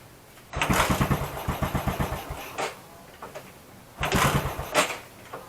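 A carburetor motorcycle engine that has sat in long storage is cranked, sputters in a burst of rapid firing pulses that die out, then is cranked again with another brief catch. Close and fairly loud, with no talk.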